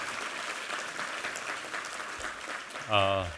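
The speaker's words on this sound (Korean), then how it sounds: "우리 하나님께 감사와 영광의 박수 올려드리겠습니다" Church congregation applauding during a Sunday worship service, a steady, moderate wash of clapping throughout, with a brief sung or tonal phrase rising near the end.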